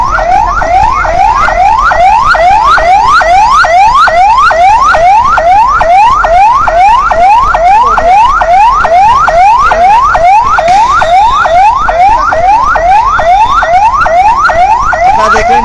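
An ambulance siren carries an injured police officer away, its loud, fast, repeating rising wail cycling steadily without pause for about fifteen seconds, with no talking.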